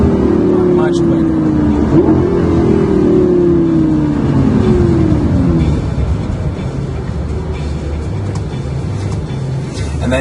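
A 2009 Lamborghini 560-4 is driven on city streets in Corsa mode. Its engine sweeps quickly down in pitch through fast downshifts, then settles into a loud, steady rumble.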